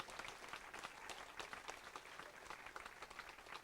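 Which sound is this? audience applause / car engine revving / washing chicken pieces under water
audience applause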